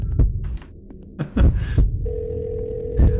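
Telephone call tone in the Baldi's Basics horror game, a steady electronic ringing tone with brief thumping game noises before it.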